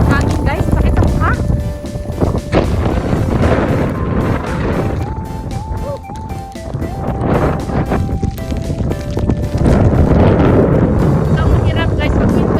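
A strong winter storm wind blasts and roars across the microphone without a break, loud and buffeting, with a voice talking throughout.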